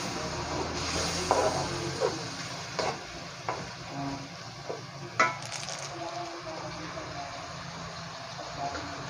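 Chicken and okra with black pepper are stirred in a pan, giving a low steady sizzle with scattered scrapes and clacks of the utensil at irregular intervals, fairly quiet and close.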